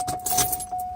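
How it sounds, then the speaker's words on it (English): A short metallic jingle of keys as a key slides into the ignition of a Mercedes SL600, close and fairly quiet, a few clinks over a faint steady hum. "Here I'm going to put the key in there"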